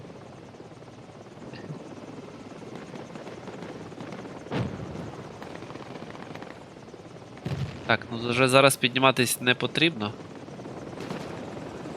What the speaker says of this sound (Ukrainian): Ворожий гелікоптер.